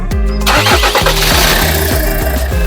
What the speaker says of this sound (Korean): 시동을 걸어보니 엔진의 진동도 거의 느껴지지 않고 정말 부드럽게 제공합니다